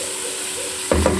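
Ground pepper and garlic are tipped into simmering water and vinegar in a pan for homemade harissa: a steady low hiss, then a sudden near splash and sizzle right at the end.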